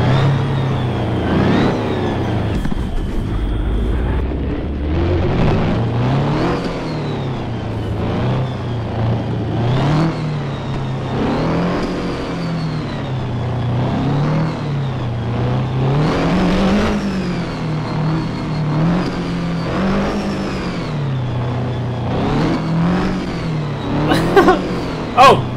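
A 500,000 HP double-decker bus in the racing game Assetto Corsa, its engine revving hard and continuously, rising and falling in loud surges for the whole stretch with no pause.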